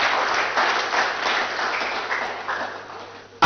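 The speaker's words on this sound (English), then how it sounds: "Please, a round of applause for the GIZ Move for that" Sustained audience applause at a cashew master training programme opening ceremony, a dense wash of many hands clapping at steady loudness, fading slightly before a sudden louder sound at the very end.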